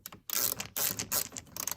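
Phillips screws are driven back in with a screwdriver while fitting a headlight switch on a Chrysler Intrepid, giving close, quick ratcheting clicks in several short bursts.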